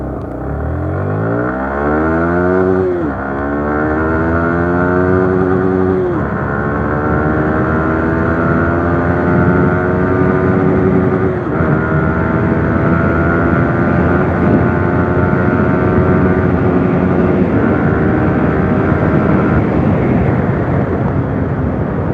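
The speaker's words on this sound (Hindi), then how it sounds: "एक बार एक्सेलरेट करके देखते हैं बाइक को" A Yamaha R15 v3 motorcycle engine revs hard and climbs in pitch, dropping briefly at each gear change, then pulls steadily upward again, loud and close throughout.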